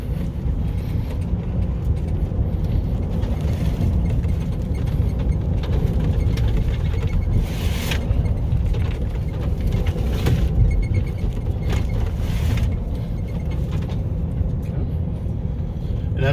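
A Lordstown Motors electric pickup with hub motors weaving through a slalom at about 30 mph, giving a continuous close road and drive rumble with a few louder swells.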